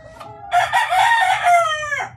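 A five-month-old stag rooster, a Red Kelso and Gilmore Sweater cross, gives one full crow close by, loud and drawn out over about two seconds, with a short cluck before it.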